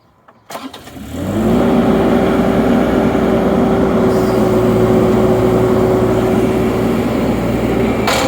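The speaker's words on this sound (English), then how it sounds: "Now this machine has a diesel engine." The diesel engine of a tracked rental machine with big rubber tracks cranks and starts after a brief click, then settles into a loud, steady idle with a constant low drone and whine, close up.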